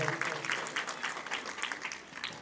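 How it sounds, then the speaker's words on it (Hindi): An audience at a village tribal day gathering in Khertha claps in a rhythmic, pulsing pattern, with fairly faint applause heard from some distance and keeping a steady beat throughout. "उसके लिए मैं ताली चाहूँगा।"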